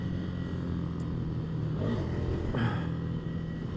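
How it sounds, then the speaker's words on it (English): A Ducati Scrambler Desert Sled's L-twin engine drones at a steady idle with a low, throbbing rumble, then briefly revs up twice before settling back, close and continuous. "it really does feel like a modern V-twin"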